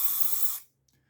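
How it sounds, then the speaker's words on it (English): A can of silicone spray releases a steady, loud hissing burst into a small container for about half a second, then cuts off abruptly, leaving near silence with a faint small tap. "So I just use this silicone spray, which I put into a little"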